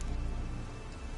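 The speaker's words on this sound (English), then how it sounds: "Oh, raining again." Rain falls in The Witcher 3 video game, a steady, even hiss of downpour heard alone and fairly quiet, without any talking.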